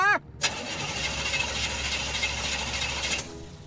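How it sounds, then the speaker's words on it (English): A stolen car's engine in the Foolish Mortals video game cranks with a short burst, then settles into a steady, fairly loud running drone for about three seconds before cutting off. "Start, you blasted car!"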